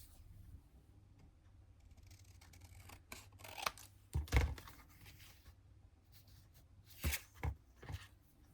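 Scissors snip through paper while cutting pieces for a junk journal, a few sharp crisp cuts clustered midway and again near the end over a quiet, low room hum.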